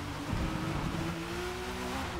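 Car engine revving and accelerating in the racing game Forza Motorsport, a steady droning engine tone climbing in pitch, loud and continuous with no talk over it.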